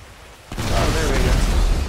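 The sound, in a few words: detonation explosion in video game Grand Theft Auto 5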